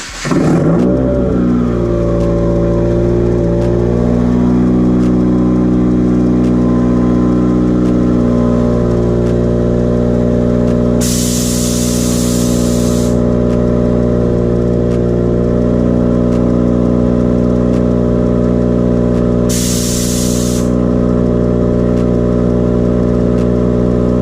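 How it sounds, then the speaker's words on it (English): A Subaru car starts and sits running steadily as it is pulled out of a garage bay, a loud close engine drone with a brief rise early on, continuing throughout. "So I'm gonna pull the Subaru out"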